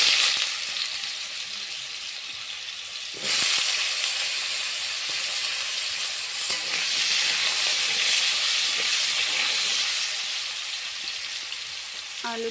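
Potato pieces fry in hot oil for a paneer and pointed gourd dish, giving a steady, loud hiss and sizzle that surges louder after a few seconds and keeps crackling without any talk.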